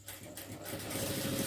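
A sewing machine stitches two layers of churidar lining together, its motor humming and the needle chattering steadily as it speeds up, close and fairly loud, with no talking.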